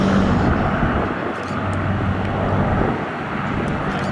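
An Avro Lancaster bomber with the Battle of Britain Memorial Flight passes overhead at an air festival, its engines a steady broad drone with wind buffeting the microphone, holding loud throughout without a break.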